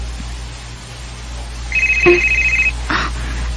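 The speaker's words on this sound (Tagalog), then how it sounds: "Ang cellphone ni Mama." A mobile phone rings indoors with a bright electronic ringtone: a short tone, then a longer sustained chirping burst over a low steady hum.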